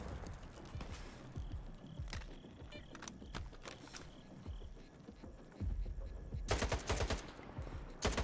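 Gunfire in the video game Stalker 2, sharp individual shots and short bursts spread throughout, with a dense rapid volley near the end, among game sounds.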